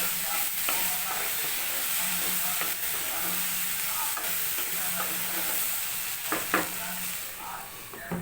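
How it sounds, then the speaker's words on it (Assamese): Vegetables fry in a pan while a spatula stirs and scrapes them repeatedly, sharp scraping strokes punctuating a constant close sizzle. "এয়া আমি চব্জিখিনি অকণমান লৰাই লওঁ"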